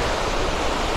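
Ocean surf rolls at San Juan de Alima beach in the evening, a loud steady wash of breaking waves filling the whole moment with dense, even noise and no voices.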